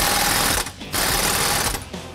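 Power impact tool tightening the lower shock bolt on a Can-Am Maverick X3: a loud, continuous rattling hammer burst, a brief pause, then another sustained rattling run, close and alone.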